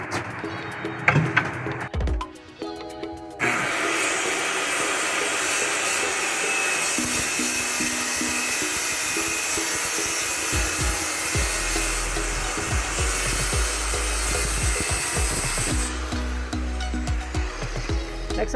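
A power saw cuts a wooden board along a guide rail set 1.5 inches from the outer edge, a loud continuous roaring whine lasting about twelve seconds after some brief clattering, then winding down.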